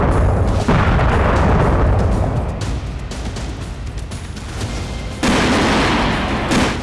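Grad rocket strikes on Ukrainian military positions in wartime, heavy booming explosions and rumbling blasts that fill the scene, loud and continuous with a fresh impact near the end.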